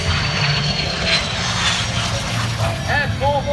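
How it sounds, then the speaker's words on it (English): A de Havilland Vampire jet roars low past the crowd at an airshow, a loud sustained engine rush, while an announcer talks over the PA system. "Jerry Conley from right-hand side of this Vampire jet down on the deck"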